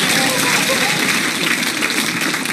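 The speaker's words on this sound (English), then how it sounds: "An applause." Applause from a comedy show audience following a joke, a dense, loud, continuous clatter of clapping with some voices mixed in.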